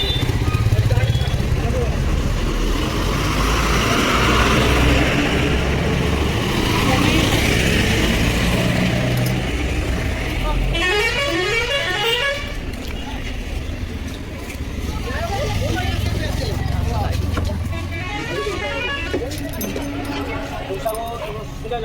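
Busy road traffic with cars and motorbikes streams past at close range, with repeated horn honks cutting through the engine noise. Voices talk over the traffic throughout.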